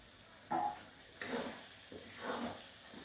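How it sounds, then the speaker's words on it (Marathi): Masala sautéing in a pan while paneer and green pea curry is cooked, with a few separate scraping stirs over a soft, steady sizzle; close and moderately quiet, no talking. "हा मसाला दोन मिनटं परतून घेऊ आपण"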